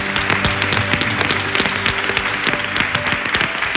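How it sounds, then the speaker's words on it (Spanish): Lively applause from a television talent show audience after a performance: sustained, close clapping with sharp individual claps and a steady background tone beneath. "Así que yo solo puedo aplaudiros."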